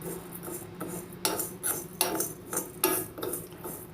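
One and a half spoons of urad dal dry-roasted in a pan with no oil, the lentils rattling and scraping in irregular bursts as they are stirred, close and fairly quiet.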